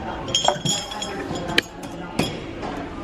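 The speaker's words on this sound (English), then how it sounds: "I'm also getting these glass cups." Glass cups clink together a few times, light bright taps spaced about a second apart, under steady background chatter while shopping at a mall store.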